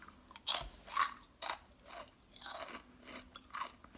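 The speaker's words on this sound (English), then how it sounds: "Sorry, I have to chew like this." Close, wet chewing from a person with no teeth, soft rhythmic crunches and smacks repeating about every half second with no talking.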